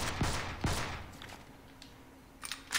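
Gunfire from a secondary weapon in the video game Counterspy: a few sharp shots near the start, a quieter stretch, then another burst of shots at the end, fairly faint overall.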